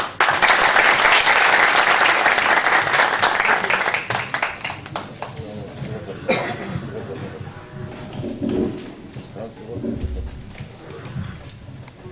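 An audience at a Turkish poetry festival breaks into loud, sustained applause that fades gradually over several seconds, leaving scattered claps and murmuring.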